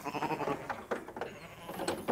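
Ewes bleat on a farm, several overlapping calls close by and fairly quiet, with a few rustles between them.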